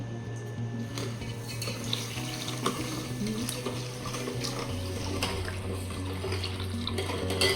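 Water runs steadily from a tap into a vessel of sugar to make rasgulla syrup, a continuous close splashing stream with a faint background hum and no talk.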